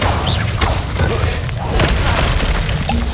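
The Incendio fire spell cast in Hogwarts Legacy, a dense rumbling burst of flame that stays loud and steady for about three seconds, with low booming energy throughout.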